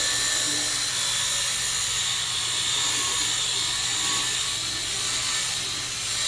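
3D ACA 500 rotary polisher with rotary attachment whirring steadily on a color-sanded PC case with fresh clear coat, a loud continuous high whine up close, no talking.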